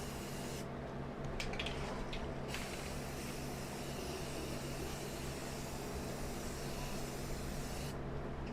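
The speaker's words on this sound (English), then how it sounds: "I'm going to go in with some of the Rust-Oleum's enamel paint in the white and spray paint it first." A steady hiss of Rust-Oleum white enamel aerosol spray paint runs almost the whole time, with a low mechanical hum beneath and brief gaps in the higher hiss.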